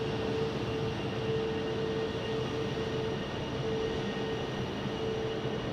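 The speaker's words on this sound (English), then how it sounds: "we've got a 737-800 arriving from Calgary with WestJet" A WestJet Boeing 737-800 from Calgary arrives at Phoenix Sky Harbor with a continuous, even jet roar and a faint steady whine, filling the air throughout.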